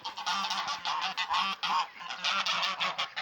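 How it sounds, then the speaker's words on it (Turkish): Geese honk loudly and continuously at close range, several harsh overlapping calls in quick succession. "Orada da gazlar var ve ördekler var."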